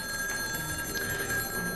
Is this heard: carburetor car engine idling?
no